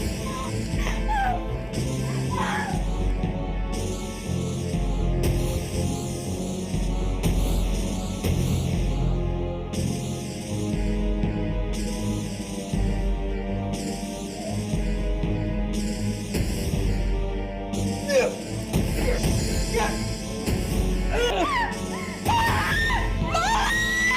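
A woman screams loudly and repeatedly in an Indonesian drama scene, with sustained, wailing cries that rise and fall over a harsh background.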